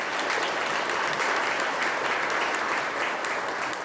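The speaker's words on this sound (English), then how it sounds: "How about a round of applause for an incredible career for Paul Clark in Cleveland, Ohio?" Dense, steady applause from an audience at a charity recognition breakfast in Cleveland, Ohio, filling the room evenly for several seconds with no voices above it.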